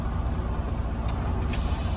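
Steady low rumble of a tractor-trailer engine throughout, with a brief hiss of released air near the end as the trailer air brakes let go.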